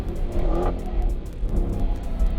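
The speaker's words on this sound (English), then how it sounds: "Even through turn 4 here, the car's sliding" A 2019 Dodge Challenger SRT Hellcat Redeye slides around a race track, its engine roaring loud and close in a steady, throbbing drone that swells and eases through the corner.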